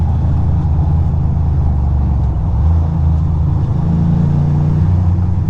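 Heavy merchant trucks race along a road with a loud, steady low engine roar and the rising drone of acceleration, close by with no talk.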